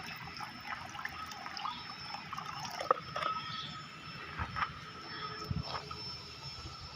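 Clean water trickles and splashes into a container in short uneven bursts, close by, with no talking.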